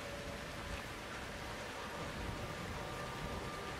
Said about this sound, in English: It's still raining blood.